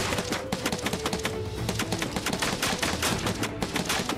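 Rapid gunfire from the Final Fantasy VII Rebirth video game, a dense, steady run of sharp shots repeating throughout, loud and close with no talking over it.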